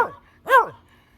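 A puppy gives a single short, high yip-like bark at close range, with a brief faint squeak just before it and quiet room sound after.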